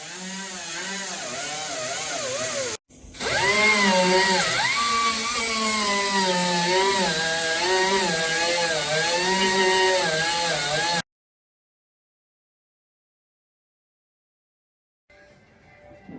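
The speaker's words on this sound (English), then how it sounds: "The welds on the bottom of the trunk were also ground down." Power grinder working down weld seams on the rusty trunk floor of a 1969 Pontiac, a loud continuous whine with wavering pitch, a brief cutoff near three seconds, then running steadily until it stops abruptly, leaving silence.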